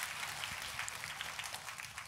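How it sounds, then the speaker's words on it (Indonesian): A church congregation claps together in a steady, dense burst of applause, moderately faint and continuous for a couple of seconds, with no voices standing out. "Kita kasih tepuk tangannya yang paling meriah buat Tuhan kita."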